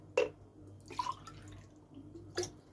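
Ice-cold, nearly frozen water poured into a cup, coming through as a few brief, close splashes and trickles spaced over a couple of seconds, fairly quiet.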